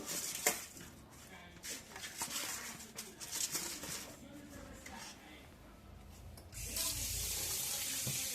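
Fish being washed under a running kitchen tap with turmeric, coarse salt and lemon juice; water splashes and hisses steadily into a sink with brief handling clatter, fairly close and moderately loud.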